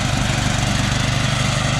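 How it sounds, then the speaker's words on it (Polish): A tractor-pulled mower cuts rough grass on uneven fallow ground, its engine droning steadily and loudly up close with a low, pulsing throb throughout. "A kosiarka dalej, ani się nie męczy, ani nic."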